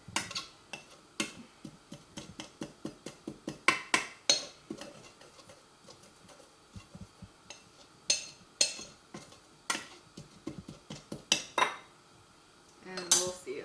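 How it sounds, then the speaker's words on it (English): A spoon presses and crushes spinach leaves in a pan, giving sharp metallic taps and clinks in irregular clusters with quieter gaps between, close and without speech. "I'm going to kind of squish it up with my spoon to try to crush the leaves"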